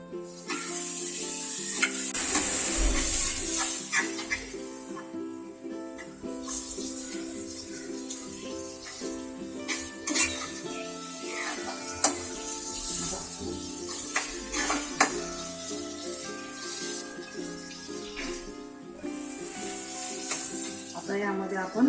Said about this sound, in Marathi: आपला मसाला छान परतून झालेला आहे।